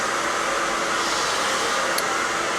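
A handheld hair dryer blows steadily without its nozzle during a short graduation haircut, a loud, continuous broadband whoosh of air that holds even and alone throughout.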